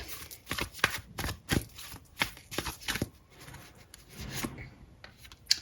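A tarot deck is shuffled by hand, giving quick, soft riffling and slapping bursts in an uneven rhythm, close and fairly quiet, with no talk over it.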